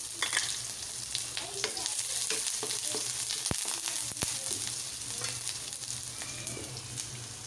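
Garlic, onion, seafood and vegetables sautéing together in a pan, giving a steady, moderately loud sizzle with scattered clicks and scrapes of a utensil throughout.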